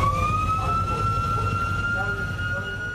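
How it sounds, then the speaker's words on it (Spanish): Emergency vehicle sirens escorting a funeral caravan for a young cyclist in Colombia wail with a steady, slowly rising tone over street rumble. "El sonido de las sirenas abrieron paso a una caravana de dolor y resignación."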